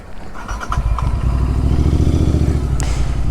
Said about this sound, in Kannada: ये भी बड़ा बाइक है भाई